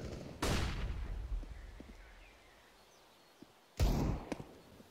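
In a tactical shooter game, two thrown grenades go off a few seconds apart, each a sharp loud bang with a short rumbling tail, and faint ticks and small sounds fill the gap between them.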